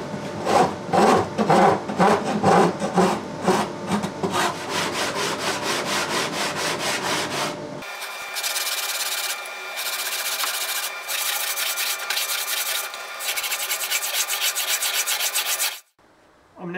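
A Shinto rasp shapes the wooden sides of a guitar, giving close, loud, rhythmic back-and-forth rasping strokes, followed by a steadier, rougher rubbing noise that stops abruptly near the end.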